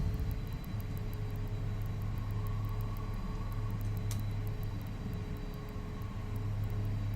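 A Lear 35A jet taxiing as heard inside the cockpit, with a steady loud engine drone and whine holding throughout, plus a brief higher click or hiss partway through.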